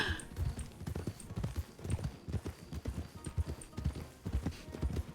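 Quarter horse hooves clip-clopping in the western game RedM, a steady walking rhythm of close hoof strikes on hard ground with faint jingling above.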